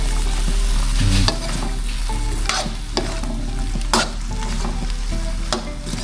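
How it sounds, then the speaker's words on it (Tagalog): Chili sautés with coconut milk in a hot pan, giving a loud, continuous sizzle and frying crackle. A spatula scrapes and knocks against the pan several times, with no voices. "Ngayon po ay lagyan natin yung ating gata. Ayan, nagisa-gisa na po natin yan."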